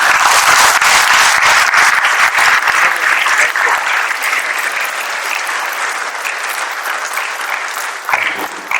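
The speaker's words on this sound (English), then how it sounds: "I would like to request everyone to applaud their time." Loud, sustained applause from a conference audience honouring a panel of speakers and moderators, dense clapping that gradually thins and fades toward the end, with a brief swell just before it stops.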